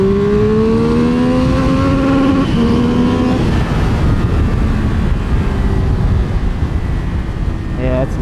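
A 2022 Triumph Speed Triple 1200RR motorcycle engine revving hard up to its limiter, a rising whine that climbs, cuts and climbs again, loud and close with wind and road roar beneath.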